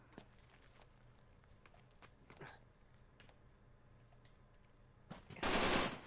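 Gunfire in the video game Uncharted 3: scattered single shots crack through the first seconds, then a dense, loud burst of automatic fire erupts near the end.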